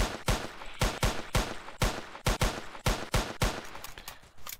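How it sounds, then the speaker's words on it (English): Shots from a P2000 pistol sidearm in the Roblox-style game ER:LC ring out one after another, about ten sharp, loud reports at a steady semi-automatic pace with no talking. "this is my classic P2000 sidearm"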